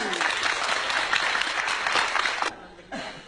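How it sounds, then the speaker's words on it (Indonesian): A burst of loud, dense clapping from a crowd that cuts off abruptly, followed by a brief quiet and a little scattered sound. "tepuk tangan"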